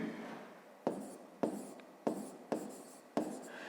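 Handwriting on paper during a grade 5 maths exercise, heard as five short pen-stroke bursts in an even rhythm, close and fairly quiet with no talk.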